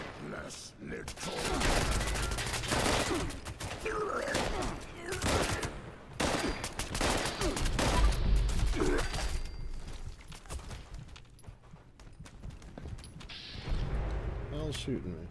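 Bursts of automatic and single gunfire from the video game Fallout 76 crackle loudly in repeated volleys over roughly fifteen seconds, with brief pauses between them and talk mixed in.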